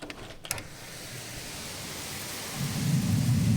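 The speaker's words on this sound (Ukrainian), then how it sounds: "Дощ стіною, вже хвилин 20 іде, сильний вітер, грім, блискавки." Steady heavy torrential rain hisses throughout amid strong wind, with a deep rumble of thunder swelling and growing louder near the end.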